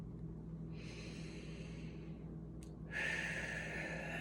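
A slow breath is drawn in through the nose, a soft airy inhale rising over steady background hum, close and quiet, then a stronger hiss of air near the end.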